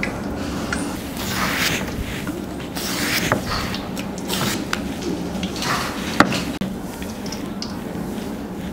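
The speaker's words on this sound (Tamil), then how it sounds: "பாருங்கள், இந்த மாதிரி நம்ம சீவிக்கலாம்." Raw plantain being peeled with an oiled peeler in a kitchen, giving repeated scraping, creaking strokes in an irregular rhythm, close and clear with no talk.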